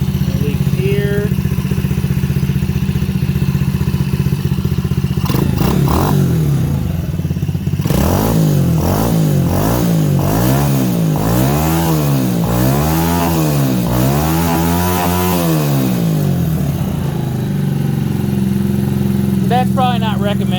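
A cold 2022 Icebear Champion motorcycle engine idles, then is revved hard in repeated rising and falling surges before settling back to a loud, close idle.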